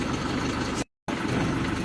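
A car engine idles steadily up close during a driving lesson, a low continuous rumble that cuts out briefly for a fraction of a second before resuming at the same level.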